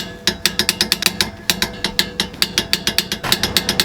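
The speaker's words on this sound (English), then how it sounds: "I torque my lug nuts to 85 foot-pounds, so make sure you get a torque wrench, torque them" A torque wrench ratchets lug nuts on a G35 or 350Z car, a rapid run of sharp metallic clicks in uneven bursts, close and clear with no talk.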